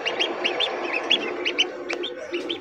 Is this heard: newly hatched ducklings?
yes